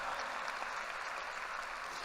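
An audience at a high school graduation applauds its teachers, a dense, even wash of clapping from a large crowd that holds steady throughout.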